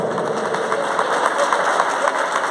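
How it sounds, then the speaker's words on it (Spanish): Dense, steady crowd applause at an outdoor prize-giving for a tamale-making contest in Nazareno, Salta, continuous clapping from many hands that holds at an even level throughout, with no speech over it. "Fuerte el aplauso"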